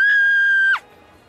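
A cartoon girl screams loudly at a roller coaster poster, one sustained shrill scream that cuts off abruptly, followed by quiet.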